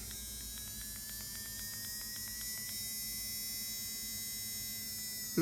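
An AIRSEE cordless nail drill runs with a faint, steady electric whine and hum, a brief fluttering pitch rising early on, the motor tone quiet and constant throughout.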